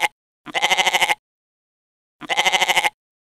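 A goat bleating in the Vocal Zoo mobile game, two loud wavering bleats heard alone and separated by a brief silence.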